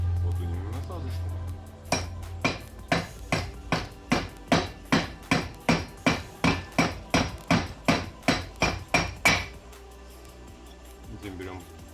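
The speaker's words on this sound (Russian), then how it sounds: "здесь молоточек, вот у него насадочку" Hammer tapping a new wheel bearing into place on a Chevrolet Lanos or Sens rear wheel with a driver attachment, about twenty sharp metallic blows in a steady even rhythm, close and clear.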